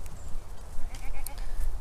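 A farm goat, a Boer, Alpine and Nubian cross, bleats in short wavering calls close by, with a few fainter bleats and light farmyard background noise around them.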